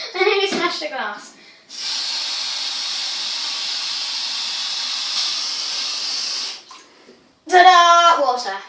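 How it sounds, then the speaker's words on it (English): Cold tap water pours steadily into a container in a home kitchen for about five seconds, a bright continuous hiss, with a person talking briefly before and after. "we need to put some water in it"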